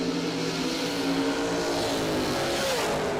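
A 2005 Undercover dragster at a drag strip roars steadily as it launches, with a loud, dense engine drone and slight pitch rises. No speech is heard.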